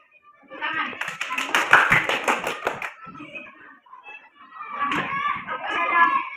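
A classroom group of children claps hands in a rapid, rhythmic burst, close and fairly loud, with voices talking before and after.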